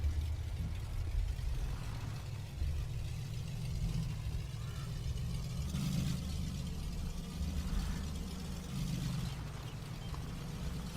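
An old truck engine in Farming Simulator 22 runs at a steady low idle, a continuous mid-level rumble that holds throughout with slight surges and no talk over it.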